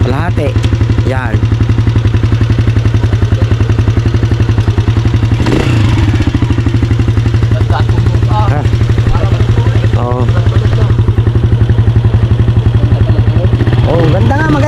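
A motorcycle engine with strong, healthy-sounding mechanics idles and runs loud and close, a steady low throb with light clatter throughout, while people talk briefly over it.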